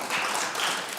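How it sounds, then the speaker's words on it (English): An audience applauding at a community summit, a steady wash of many hands clapping close and fairly loud for about a second. "so give her a round of applause"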